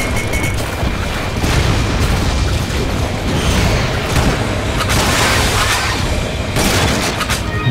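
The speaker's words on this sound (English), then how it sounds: "Grenade!" A grenade blows up in the video game Resident Evil: Umbrella Chronicles amid dense, loud in-game booms and bursts of gunfire that run throughout.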